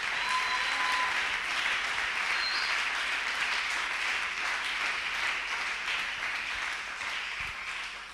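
A church congregation breaks into dense, sustained applause that fills the room evenly, with many hands clapping together and slowly easing off near the end.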